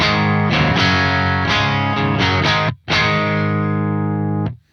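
A heavily distorted electric guitar runs through a Soldano SLO100 amp simulator plugin, playing thick, saturated chords in a short riff. One brief gap cuts in near the middle, and a ringing chord fades out at the end.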